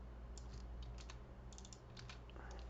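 Quiet, close keystrokes on a newly bought computer keyboard come in quick, irregular bursts over a low steady hum, with no talking.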